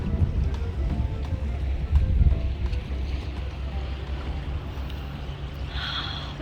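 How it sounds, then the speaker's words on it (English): Waves crash on a rocky stretch of the Maine coast, a steady rolling surf roar under gusts of wind buffeting the microphone, with no one speaking. "I don't know if you guys hear the waves crashing."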